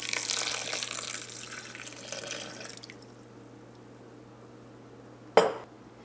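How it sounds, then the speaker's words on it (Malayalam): Water pours steadily into a grinder jar holding coconut for about three seconds, then stops, and a single sharp clunk follows near the end. The sound is close and moderately loud, with no talk. "ഇതിലേക്ക് നമുക്ക് ആവശ്യത്തിന് വെള്ളം ഒഴിച്ചിട്ട് നന്നായിട്ട് പേസ്റ്റ് പോലെ അരച്ചെടുക്കാം"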